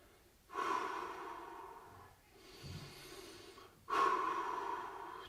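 Slow, audible breaths in and out during a gentle seated exercise session, with two long breathy phases separated by a quieter pause, close and without speech.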